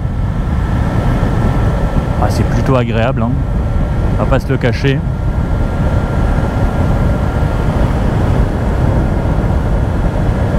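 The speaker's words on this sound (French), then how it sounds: "Il y a quand même du couple hein, sur ce genre de moto." A motorcycle engine cruising at 90 in fourth gear, a steady broadband drone mixed with wind rush that runs through the whole clip while a rider talks briefly over it.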